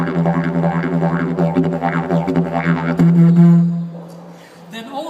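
Didgeridoo played in Indigenous Australian style to sound the word for emu, a continuous droning tone with rhythmic pulsing vocalised patterns over it, close and fairly loud, settling into a steadier hum before tapering off.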